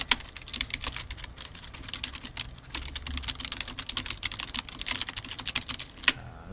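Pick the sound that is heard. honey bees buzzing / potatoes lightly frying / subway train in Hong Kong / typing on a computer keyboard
typing on a computer keyboard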